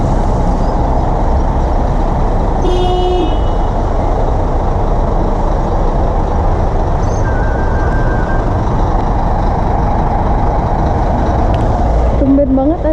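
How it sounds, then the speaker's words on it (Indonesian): Constant road traffic roar with a short car horn honk early on and another brief beep right at the end. "Tumben banget ada klakson"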